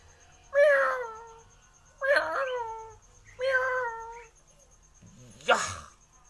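A cat beside an electric pole meows three times in drawn-out, wavering calls about a second and a half apart, followed by a shorter, harsher cry, close and clear against a quiet background.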